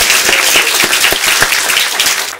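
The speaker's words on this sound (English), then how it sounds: "I think that deserves a round of applause just in itself." A ceremony audience bursts into steady applause at the blessing and dedication of a cancer center. Dense clapping runs throughout, with sharp individual claps standing out, and it fades slightly at the end.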